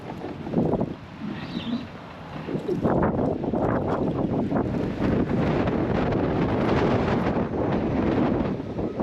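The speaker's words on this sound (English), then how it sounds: "It's getting cold and windy out here." Cold wind gusting outdoors around a skid steer, buffeting the microphone with steady loud rumbling noise through most of the clip, easing briefly near the start before rising again.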